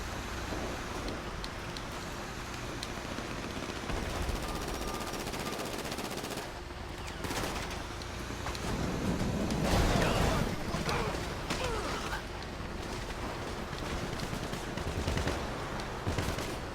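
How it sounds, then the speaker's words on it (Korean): Gunfire in GTA5, with rapid bursts of shots under continuous game noise and engine rumble, heavier in the middle stretch, while people talk over it. "아내가 총 쏘고 있는 건가?"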